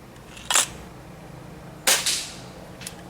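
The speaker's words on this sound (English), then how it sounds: "Something like this pellet gun, it has really excellent sights" A pellet gun used for shooting practice fires a few sharp, short cracks spaced apart, the middle shot loudest, against a quiet background.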